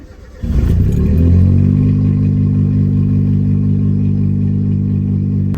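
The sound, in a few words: Suzuki Cappuccino engine starting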